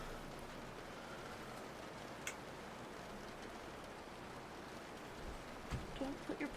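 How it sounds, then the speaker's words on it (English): Recorded rain plays as a soft, steady hiss of falling drops, faint and continuous, with a few small ticks and a brief low thump near the end. "I love these rain sounds."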